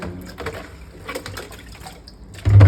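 Water is poured while a Persian cat with sore, scratched ears is bathed, a soft splashing trickle up close that swells into a louder, fuller gush at the end.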